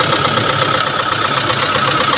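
A vehicle engine runs at a steady, smooth idle, close and continuous, with an even mechanical hum and no pauses.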